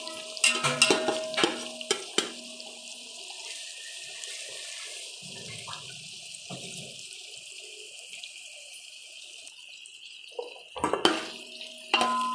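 Onions fry in a pot for chicken biryani, with bursts of stirring clatter at the start and again near the end over a faint, low sizzle. The middle stretch is fairly quiet.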